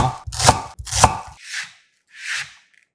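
A knife slices through a halved onion on a cutting board: two crisp, close chops, then two softer, drawn-out strokes. There is no talk.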